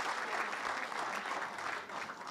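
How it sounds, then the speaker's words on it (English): Dense audience applause at a school board meeting honoring girls soccer, boys soccer and football teams, a continuous crowd of hands clapping at a fairly distant, steady level. "I think that deserves another round of applause for girls soccer"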